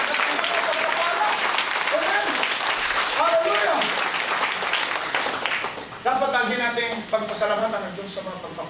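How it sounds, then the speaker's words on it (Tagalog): Church congregation applauding during a sermon, a dense, loud wash of clapping with a voice speaking over it and a thinner stretch toward the end. "Yung palakpak para sa Diyos"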